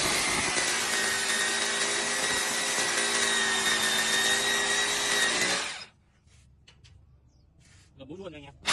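A Hukan K94 three-function hammer drill bores into reinforced concrete. It gives a loud, steady, whining grind up close for nearly six seconds, then stops, and a few quiet knocks and a voice follow.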